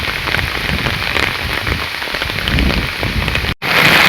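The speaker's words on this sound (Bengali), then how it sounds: "দেখছো আশপাশে কত বৃষ্টি হচ্ছে" Heavy monsoon rain in a village lined with bamboo groves pours down in a loud, dense, steady patter on nearby surfaces, cutting off abruptly for a moment near the end.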